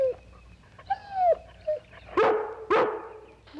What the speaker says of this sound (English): If you want to stay and bark at that squirrel all day, it's all right with me.